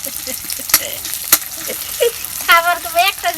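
Corn kernels frying in hot oil, sizzling and crackling with sharp pops, while stirring clatters and voices talk nearby.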